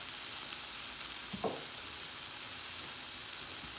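Steady, soft sizzling of eggs frying gently in a pan, a continuous low hiss with a brief faint clatter partway through.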